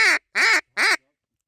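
A duck by a river in winter quacks loudly and close three times in an even rhythm, each call harsh and nasal, followed by quiet.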